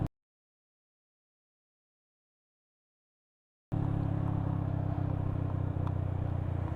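Yamaha Sniper 155R motorcycle engine decelerating with the throttle closed. The clip is silent at first, then a steady, close engine drone with a low rumble begins partway through and holds to the end.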